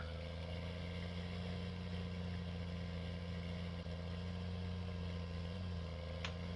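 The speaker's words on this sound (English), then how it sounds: "I forgot how noisy this tractor was." A tractor engine in the video game Farming Simulator 19 drones at a steady idle, a constant low mechanical hum with no break, fairly quiet and heard alone.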